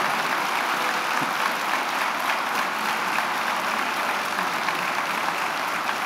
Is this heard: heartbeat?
no